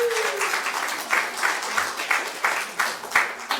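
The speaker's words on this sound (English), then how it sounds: "And you could clap because it's a concert too." Hands clapping a steady beat along with a concert chant, repeated rhythmic claps about every third of a second over a dense crowd wash, moderately loud and continuous.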